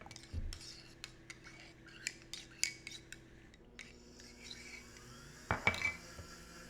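A spoon stirs a vegan dessert in a glass, making a few faint, sparse clinks and scrapes with quiet pauses between them and one sharper clink near the end; nobody speaks.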